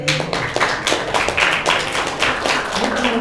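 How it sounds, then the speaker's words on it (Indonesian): Scattered audience clapping at a community gathering in Semarang, a loose, uneven patter of hands nearby with no talk over it. "Tepuk tangan untuk kalian."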